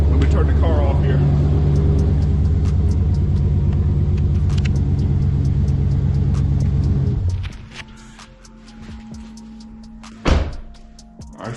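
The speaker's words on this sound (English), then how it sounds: "Let me turn the car off here." A Dodge Charger Scat Pack engine idles with a deep, steady rumble, then cuts off around the midpoint, leaving quieter surroundings broken by a thunk. Someone talks over the idle.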